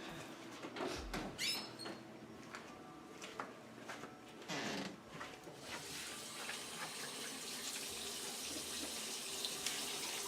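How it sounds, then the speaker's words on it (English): A running sink tap splashes steadily as hands are washed before wound packing in a clinical setting, with a few clicks and handling knocks at first and a continuous water hiss building and holding through the later part. "we're going to go wash our hands"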